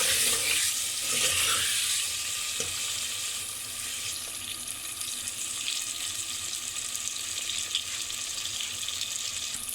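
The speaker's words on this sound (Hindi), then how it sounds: "आलू डालने के बाद हमने 10 मिनट तक इन्हें भूनना है।" Potatoes frying in a pan while cooking chicken korma, a steady close sizzle and hiss with faint stirring scrapes, no talk.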